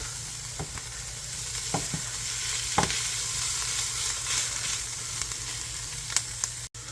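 Seasoned beef and cabbage sizzle steadily in a skillet while a utensil stirs and scrapes through them with occasional soft clicks, close and continuous with no talk.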